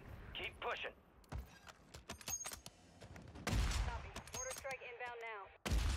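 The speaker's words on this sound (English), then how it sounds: "Tom, if you're gonna fucking snipe, you gotta hit your fucking shots." Gunfire from a Warzone 3 match cracks in a cluster of sharp shots and a heavier blast near the end, mixed with game effects and voices talking over it.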